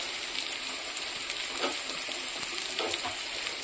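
Sweet pumpkin frying in a pan, a steady close sizzle with soft crackles and a few stirring scrapes, continuous and moderately quiet.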